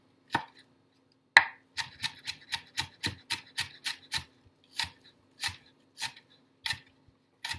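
A knife slices scallions thinly on a cutting board, making about fifteen crisp, distinct chops in an uneven rhythm with short pauses, close and fairly quiet, with no talking.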